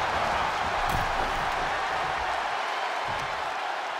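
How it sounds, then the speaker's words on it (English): Wrestling arena crowd cheering during a Raw match between Henry Viper and Yokozuna, a sustained loud roar of many voices with a few sharper shouts, easing slightly near the end. "The sound of this crowd is deafening, and he's asking for more."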